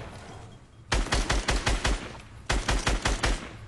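Gunfire in the battle royale game Fortnite, two loud close bursts of rapid rhythmic shots, each about six to eight rounds, separated by a brief pause.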